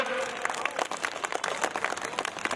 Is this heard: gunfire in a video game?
no